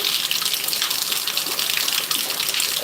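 Heavy rain falls in a steady, dense hiss that stays loud and unbroken throughout, with no one speaking.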